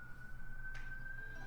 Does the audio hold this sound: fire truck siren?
yes